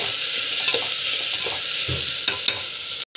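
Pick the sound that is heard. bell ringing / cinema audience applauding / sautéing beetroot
sautéing beetroot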